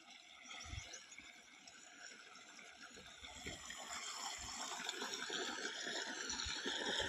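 Irrigation water runs into an onion field, a faint, continuous gushing and trickling that swells slightly toward the end, with no voices.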